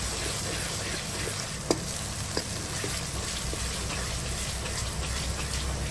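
Ginger and garlic fry with onions in a pan for Punjabi-style aloo matar, a loud, dense, continuous sizzle with a couple of faint scraping taps from a spoon, close up and without speech.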